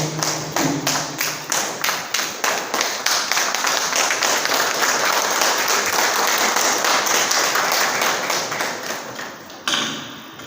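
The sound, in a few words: applause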